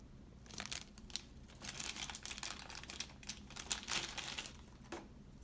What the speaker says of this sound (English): As I take the watch out of the wrapper